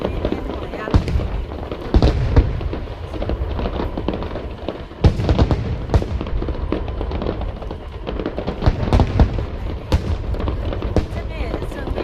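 A steady barrage of National Day fireworks over Yunlin, Taiwan, with loud booms and crackling bursts piling up for several seconds and a few heavier thuds, under nearby crowd chatter.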